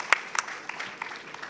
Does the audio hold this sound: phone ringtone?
no